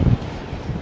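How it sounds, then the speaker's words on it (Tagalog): Strong wind buffets the microphone in heavy low rumbling gusts, loudest at the start and again near the end, with no talking. "napakalakas po ng hangin mga kamigo"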